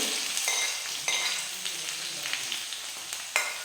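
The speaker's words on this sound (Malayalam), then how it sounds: "നമുക്കിനിയും കടുക് വറുക്കാം." Mustard seeds, shallots and ginger sizzle in hot oil for a pineapple pulissery tempering: a continuous loud hiss, broken by sharp pops and crackles as the seeds burst.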